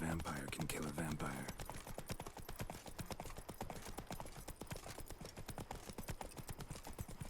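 Roach, a horse in the video game The Witcher 3: Blood and Wine, trotting in a steady, rapid clip-clop of hooves, with a voice talking briefly at the start.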